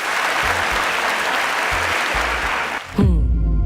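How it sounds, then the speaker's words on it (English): Audience at a semi-final event applauding the finalists, steady full clapping that runs on before cutting off abruptly into a musical sting. "they deserve a round of applause"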